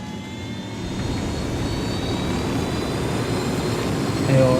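Steady, loud rotor and engine drone of a helicopter flying in the video game Ghost Recon Wildlands, a continuous near roar with no talk.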